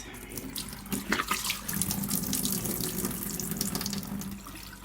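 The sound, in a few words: faucet water rinsing radish sprouts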